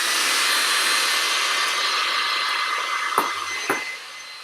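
A hair dryer at full heat and full blast gives a loud, steady close-up roar that eases slightly near the end, with two short knocks just before it stops.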